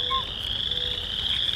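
Several frog species call together in a forest wetland, a steady high-pitched trilling chorus that runs unbroken, with a few nearer croaks over the top and no talk.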